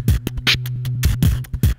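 Loopstation beat scattering effect, part one, chopping a looped beatbox pattern into stuttering, rapidly repeated fragments of kicks, hums and hissy snares over a short burst.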